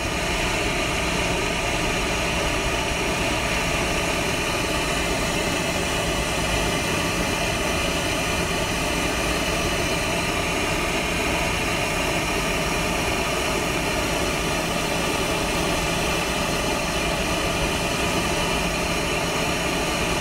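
Coleman Fyrestorm PCS camping stove burner roaring with its lid on, a steady, loud, broadband jet-like rush that holds constant without a break.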